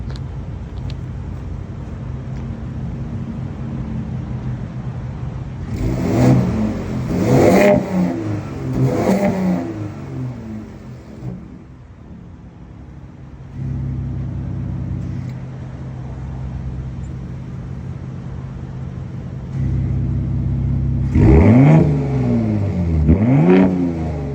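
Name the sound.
pickup truck engine revving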